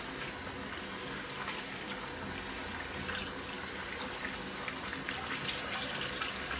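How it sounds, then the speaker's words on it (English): Water runs steadily from a tap as hands are washed beneath it after lathering a shaving soap bar, a continuous close hiss and splash with no talking. "let me wash my hands."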